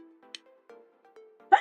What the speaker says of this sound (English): Sorry, I've just got to sneeze.